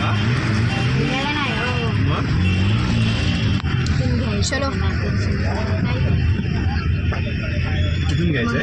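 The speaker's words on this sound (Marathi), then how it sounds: "पप्पा गाडी ड्राईव्ह करतायत मस्तपैकी" A family car cruises along the road toward a village, its steady engine and road rumble heard from inside the cabin beneath near-constant conversation.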